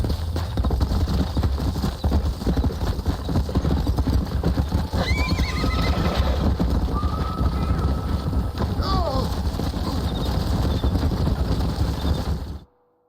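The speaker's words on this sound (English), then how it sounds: "We got some fine horses." Horses in the Red Dead Redemption video game neigh and whinny loudly amid clip-clopping hooves and wind noise, with a couple of distinct whinnies rising above the steady outdoor din.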